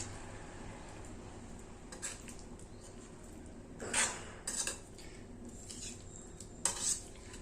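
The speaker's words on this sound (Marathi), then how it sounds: "आता मिक्स करून घ्यायचं।" Paneer pieces tossed with cornflour in a bowl, with soft scraping and several sharp clinks of a spoon against the bowl over quiet background, close and faint, no talk.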